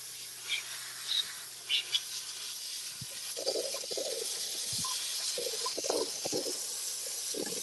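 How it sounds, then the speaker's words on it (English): A steamer blasting steam onto car paint to lift old layers, giving a broad continuous hiss with several short bursts and some clanks, fairly close, without talk. "There's steam coming out."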